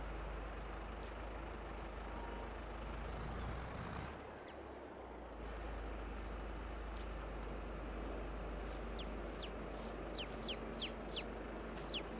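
Rooster and chickens in the Farming Simulator 22 video game, with repeated short clucks and calls over a steady, loud farmyard background drone, growing busier toward the end.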